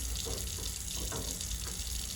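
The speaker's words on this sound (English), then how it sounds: "let it run, let the water run" Tap water runs steadily into a sink for rinsing excess glaze off a ceramic piece, a constant close splashing hiss with no voices.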